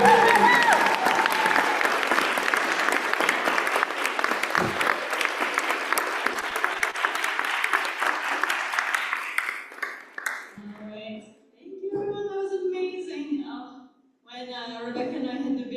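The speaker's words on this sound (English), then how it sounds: "can we get one more round of applause for all the amazing" Loud applause from an audience at a youth seminar for presenters, sustained clapping for about ten seconds before it fades out and speech begins.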